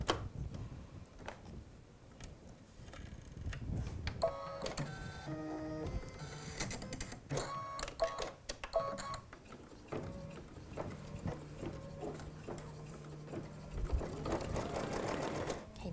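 An embroidery machine stitches fabric held in a hoop, giving a rapid, rhythmic mechanical ticking and clatter with shifting tones, steady and fairly close throughout.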